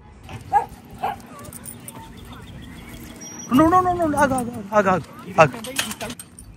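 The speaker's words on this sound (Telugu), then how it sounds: "ఏమండి కుక్కల పార్క్ వచ్చాము" Dogs at a dog park in the USA give scattered barks, sharp yips and whimpers, close by and in short bursts with quiet gaps between them, growing busier and louder in the second half.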